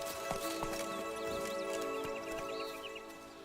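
Horse hooves clip-clop in The Witcher 3 game, a light rhythmic clatter mixed with game ambience, birdsong and a steady tonal hum, fairly close throughout.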